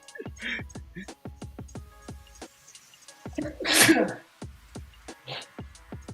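A person gives one loud, sharp sneeze in the middle, set against rapid rhythmic tapping and scratching from a drawing session, with a little talk near the end.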